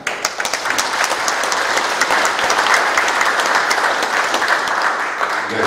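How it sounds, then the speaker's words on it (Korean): A large hall of delegates at a livestock cooperative's general assembly breaks into sustained, dense applause for a standing director, loud and even throughout with no talk over it. "여러분 우리 힘찬 박수를 좀 보내주셨으면 좋겠습니다"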